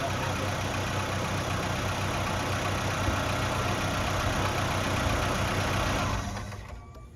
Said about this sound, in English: That back belt's still squealing